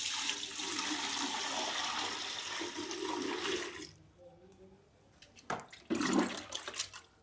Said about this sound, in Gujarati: થોડુંક પાણી એડ કરી દેવાનું